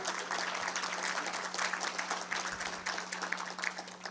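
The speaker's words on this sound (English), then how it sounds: "So please give a welcome and a round of applause to Mike McGrath." Steady applause from the audience at a naval acquisition research symposium roundtable, many hands clapping densely and evenly for about four seconds over a constant low hum.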